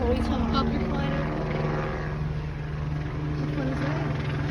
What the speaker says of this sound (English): We got the police helicopter flying over.